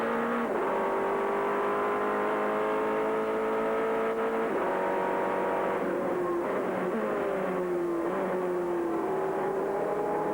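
Prototype race cars at speed during a 2000 American Le Mans Series race, engines whining and shifting through gears as they pass, one car's pitch climbing and dropping against another's, loud and continuous with no talk.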